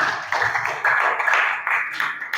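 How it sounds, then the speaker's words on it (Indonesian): Classroom applause from students for a classmate after a Quran recitation, a short run of close, uneven hand claps coming in a few bursts. "Tepuk tangan untuk Haziqan"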